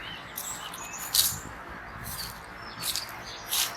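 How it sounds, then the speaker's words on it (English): Blackbird singing in a graveyard, short high chirps and warbled phrases coming and going at a moderate distance over faint outdoor background. "We've even got Mr. Blackbird."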